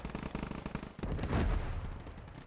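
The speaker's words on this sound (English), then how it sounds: "Explosion sounds, very nice." Modded explosions and gunfire from the Gates of Hell war game ring out during a night battle with tracers, half-tracks and infantry: a quick burst of rapid shots, then a heavy rumbling blast that rolls on and fades.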